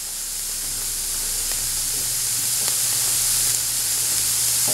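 Eggs hitting a pan of sautéed jalapenos, peppers and onions, giving a steady close hiss and sizzle that holds throughout, alone with no talk, over a low hum.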